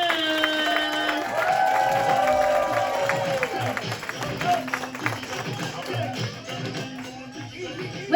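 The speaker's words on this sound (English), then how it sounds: "Start clapping right now." Applause at a comedy club, The Lincoln Lodge, greets the show's host, many hands clapping densely alongside cheers and whoops, loud at first and thinning toward the end.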